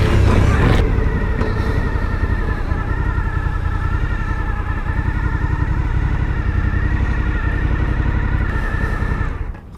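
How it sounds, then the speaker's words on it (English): A 2020 Suzuki V-Strom 1050XT motorcycle rides steadily with a loud, continuous engine drone and wind rumble, holding an even note for about ten seconds before cutting off at the end. "First ride on the Suzuki v-strom 1050xt."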